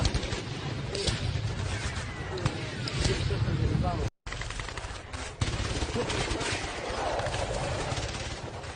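Sustained gunfire at the Chaman border between Pakistan and Afghanistan, rapid bursts of shots over a noisy, crowded background, briefly cut off midway before resuming.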